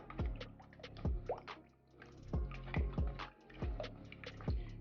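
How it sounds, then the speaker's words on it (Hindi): A glass of water is poured into besan kadhi batter at home, making repeated wet splashes and drips that come in bursts, close and fairly quiet, with no voices. "और अब इसके अंदर मैं 1 गिलास और पानी का ऐड करूँगी।"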